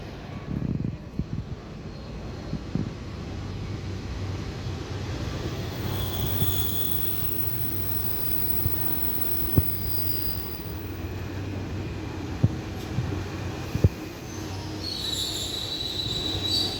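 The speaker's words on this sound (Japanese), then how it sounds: "1番線折り返し14時8分発取り行きの列車の到着となります。" A Kanto Railway Joso Line train pulls into Moriya station, a steady rumbling roll with intermittent high wheel squeals and brief clanks, moderately loud and close.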